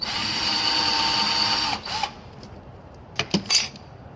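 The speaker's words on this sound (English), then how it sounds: "to help the drilling happen with less wear and tear on the drill bit" A power drill drilling metal whines steadily up close, then stops, followed by a few short bursts of drilling.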